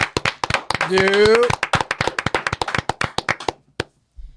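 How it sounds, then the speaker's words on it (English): A studio audience at a South Florida comedy show claps for comedian Gene Harding, with sharp, close, rapid claps that sound like only a few people, heard with a voice and a brief sung or called note over them, fading into silence. "I want everybody here in the studio audience to put your hands together and start clapping for my man, Gene Harding."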